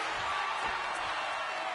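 Arena crowd in a wrestling video game, a steady broadband roar of cheering that holds at an even level throughout, with no distinct voices standing out.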